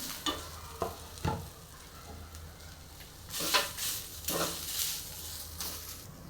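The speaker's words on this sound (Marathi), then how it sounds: "आता अद्रकचे तुकडं लसूण आणि हे काजू हे पण याच्यामध्ये व्यवस्थित भाजून घ्यायचे" Ginger pieces, garlic and cashews roast in a pan, a soft crackling sizzle punctuated by several brief scraping stirs, quiet and close, with no speech.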